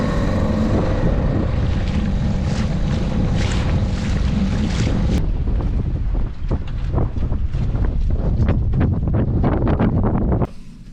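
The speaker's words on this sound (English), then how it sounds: "it's windy still, like 20 odd knots I think" Strong wind of about 20 knots buffets the microphone in a steady roar, with water sloshing and rushing around a moving sailing boat; no voices.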